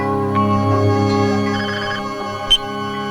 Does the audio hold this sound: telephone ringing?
yes